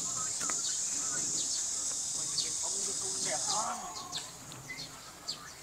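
Summer cicadas buzzing in trees in a Korean village, a steady, fairly close high drone that cuts off partway through, leaving scattered chirps while a person talks.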